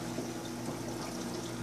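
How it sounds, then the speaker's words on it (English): Water runs steadily through an aquarium display tank, a constant pouring and trickling wash over a low pump hum, close and even throughout. "And then the running water"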